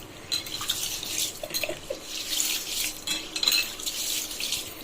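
Ingredients rinsed by hand in water in a metal vessel, soft sloshing and splashing with light clinks of the pot, close and fairly quiet.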